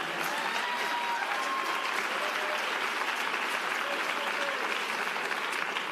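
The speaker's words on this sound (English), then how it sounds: "You can clap for East Harlem." An audience at a mayoral education speech claps for East Harlem, a sustained, dense applause that holds steady and loud from start to finish with faint crowd voices mixed in.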